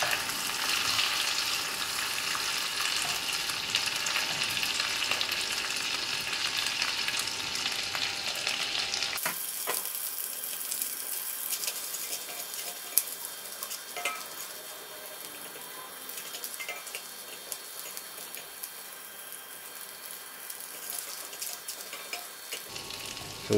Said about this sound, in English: Once the oil is heated up, we'll put in our chopped dried shrimp. And we'll fry until it becomes fragrant.